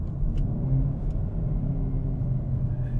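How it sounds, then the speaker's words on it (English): Hyundai i30N hot hatch engine running with a steady low rumble, a brief throttle blip lifting the revs during a rev-matched downshift, heard from inside the car with no talking. "it automatically blips the throttle to get it up to the right revs"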